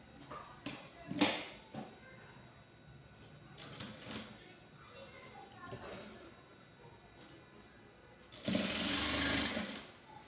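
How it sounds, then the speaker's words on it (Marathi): A sewing machine stitching a katori blouse makes short bursts of rapid mechanical whirring, with a longer loud run near the end and quiet handling noises in between. "आता मी अगोदर कवर शिलाई देऊन घेते"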